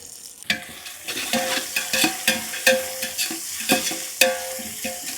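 Ingredients stirred and frying in hot oil for a village-style prawn biryani on a wood-fired stove, with steady sizzling and repeated sharp scraping strokes of a ladle close by.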